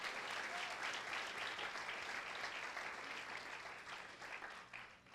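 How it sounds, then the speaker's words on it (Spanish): Congregation in a church service gives a sustained round of applause, a dense steady patter of many hands at moderate distance that fades gradually toward the end. "Denle una ofrenda de palmas al Señor"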